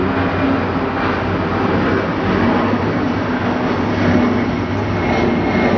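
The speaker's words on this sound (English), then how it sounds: "That aircraft is getting after. My word, is it up there." Airliner taking off at DFW airport, a loud steady jet engine roar filling the whole stretch with no breaks, heard from nearby and without any voices over it.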